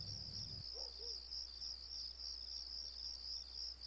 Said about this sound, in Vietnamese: ngày nào mà không nghe tiếng dế kêu rỉ rả hả con?